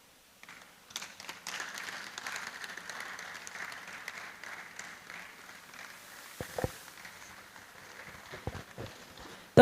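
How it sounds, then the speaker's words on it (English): Applause from an audience at the 2024 ICTEL Expo after a welcome address, moderately faint and steady, with a few louder, closer thumps and knocks breaking through near the end. "Don't stop clapping, ladies and gentlemen."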